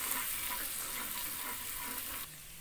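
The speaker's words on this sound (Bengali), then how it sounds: "দিয়ে খুব ভালো করে একটু ভেজে নিচ্ছি যতক্ষণ না এর কাঁচা গন্ধটা চলে যায়।" Grated ginger and garlic fry in oil, a close, soft sizzle that crackles steadily for under three seconds, then drops slightly quieter near the end.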